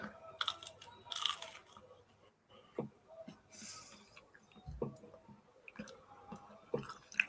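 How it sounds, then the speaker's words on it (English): Crisps being munched in the background, with repeated irregular crunchy bites and clicks scattered across several seconds, moderately close and fairly quiet. "Apologies if you can hear munching in the background."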